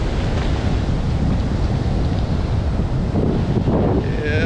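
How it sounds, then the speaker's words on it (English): Big ocean waves breaking on an Australian beach, a loud continuous roar of surf mixed with heavy wind buffeting the microphone and no pause in the wash. "There is some big massive wave out here."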